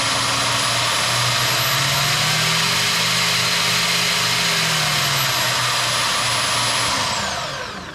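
A Wen oscillating spindle sander runs with no vacuum attached: a steady, loud mechanical whir with a low motor hum, continuous, then easing off at the very end.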